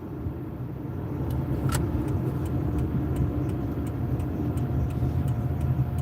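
A passenger car drives along on the way to a gas station, its steady engine and road noise continuous and close, with a faint ticking like a turn signal repeating through the second half.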